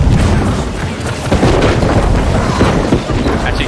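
Cannons boom in a video game battle, a dense, loud, rumbling barrage of overlapping blasts that runs without pause, with no clear talking over it.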